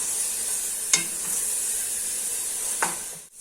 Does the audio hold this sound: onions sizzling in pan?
yes